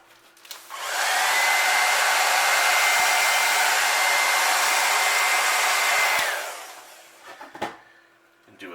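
A heat tool blasts steadily for about five seconds to set stencil paint, a loud continuous blowing roar that starts abruptly and cuts off, followed by a few faint handling knocks.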